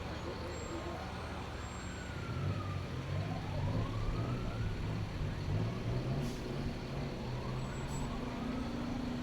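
Fire trucks roll past in a Memorial Day parade in Ironton, Lawrence County, a low engine rumble swelling through the middle while faint siren whoops rise and fall, a quick brief horn note, and a voice talks quietly throughout.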